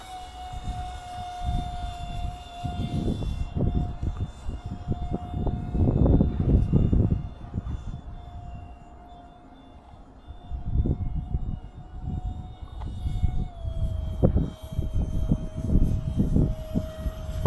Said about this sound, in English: Flying full out, full throttle.